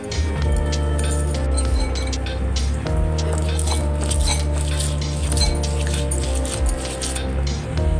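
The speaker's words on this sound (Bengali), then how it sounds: "এর আমি মশলাটা বেটে নেব।" Spices, including dried chilli, being ground by hand on a grinding stone, with close, steady scraping, clinking and gritty rubbing, while continuous musical or tonal background plays and no one speaks.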